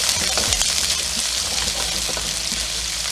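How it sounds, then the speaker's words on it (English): Onions stir frying in hot oil for a garlic honey shrimp stir fry, giving a steady, close broadband sizzle with a few brief clatters of stirring, no voices. "add our onions to the oil. Let's get these stir fried."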